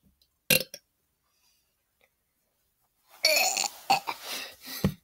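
A person lets out a short burp, then after a quiet pause a longer, louder drawn-out belch with a few bursts, close and clear, no talking.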